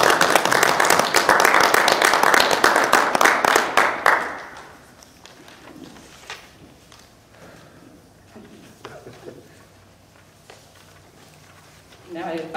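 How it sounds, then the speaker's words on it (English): A burst of loud crowd applause at an ordination service, with dense clapping for about four seconds, then fading into scattered claps and a quieter room. "Let us all show our celebratory applause."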